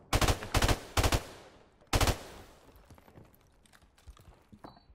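Bursts of first-person shooter gunfire, loud and close: three rapid automatic volleys in quick succession, a pause, then a fourth burst, trailing off into quieter clicks and scattered small noises with no talking.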